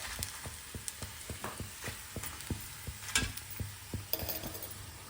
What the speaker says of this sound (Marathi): हे जे पोहे आहेत हे आता आपण तळणार आहोत ह्या तेलामध्ये